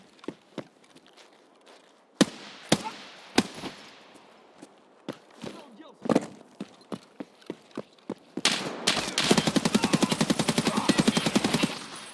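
Video game gunfire rings out: sharp single shots are spaced irregularly at first, then a sustained rapid automatic burst plays until the weapon runs dry, loud and close.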